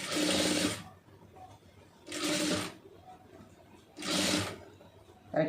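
A sewing machine stitches puff sleeve pleats in three short whirring bursts with even pauses between them, close and clear.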